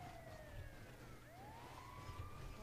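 An ambulance siren in the video game GTA Online wails with rising and falling tones, faint and somewhat distant over a low engine rumble, with no talk.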